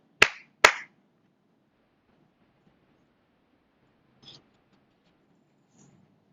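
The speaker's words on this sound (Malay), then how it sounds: "Kalau boleh, tepukan 2 kali." Two sharp, close claps in quick succession during an online class, followed by near silence with a couple of faint, distant taps later.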